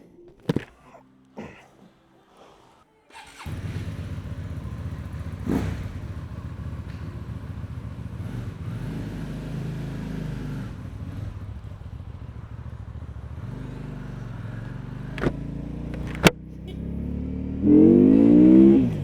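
Benda Chinchilla 500 cruiser motorcycle: a few handling clunks, then the engine fires and settles into a steady, fairly loud ride with rising and falling throttle, brief sharp clicks, and a harder rev surge near the end.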